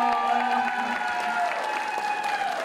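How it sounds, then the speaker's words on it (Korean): An audience at a televised Korean broadcaster's special concert event claps loudly and steadily for performers, a dense, sustained wash of applause with a faint musical tone underneath. "박수를 받아주십시오"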